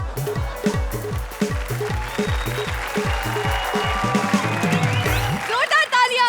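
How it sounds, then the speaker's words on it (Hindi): A studio audience at a TV comedy show applauds loudly for a performer named Raja, a dense, continuous crowd clapping layered over pounding rhythmic music with a steady beat throughout. "जोरदार तालियां अब राजा के लिए।"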